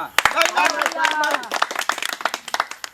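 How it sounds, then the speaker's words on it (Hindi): A few sharp hand claps ring out amid lively overlapping voices and chatter, close and fairly loud. "ताली मारू"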